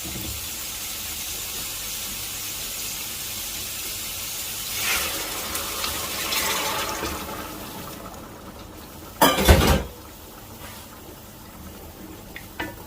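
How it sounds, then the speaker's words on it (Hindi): About two liters of hot water pours into a pot of browned mutton for Afghani Kabuli pulao, making a hissing, splashing rush that builds in the middle and ends in a loud, brief surge. "तो अभी मैं इसमें शामिल करूंगा तकरीबन 2 लीटर पानी"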